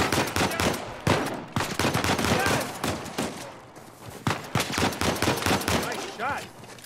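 Sustained gunfire in Uncharted 4 Remastered on PS5, dense automatic bursts and single cracks firing loud and close in rapid succession throughout, with character dialogue breaking in between the shots.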